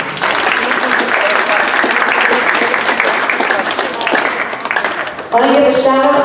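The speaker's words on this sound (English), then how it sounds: "Go ahead and give yourselves a round of applause" Students at Kimball School applaud themselves, with dense, steady clapping from a room full of children that carries on for several seconds and ends as a voice starts speaking.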